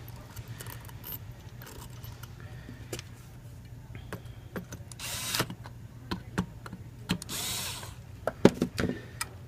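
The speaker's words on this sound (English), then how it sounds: "I'm going to put the screws back in at this point" A power driver running screws back into a spool valve during reassembly, with short whirring bursts and clicks of handling over a steady low hum.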